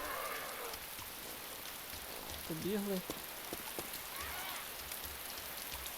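Constant patter of rain in the video game DayZ fills the background while a voice briefly speaks a single short word over it.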